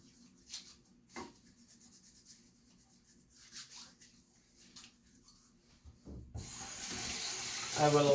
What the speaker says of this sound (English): Then I will then wash my hands.